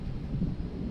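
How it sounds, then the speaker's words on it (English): Low rumbling thunder from an approaching storm heard from a rooftop, a steady deep roll with a slight swell near the middle, fairly loud and unbroken with no talk. "there is plenty of thunder, which I think just adds to the ambiance"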